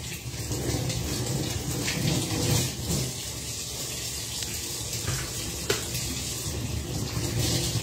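Light rain falls steadily as a soft, even patter with faint watery hiss throughout, no voices.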